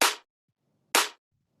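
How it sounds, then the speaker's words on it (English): Two sharp, bright tech house clap hits spaced about a second apart, each snapping in and decaying quickly, with silence between. "All right, we got the claps."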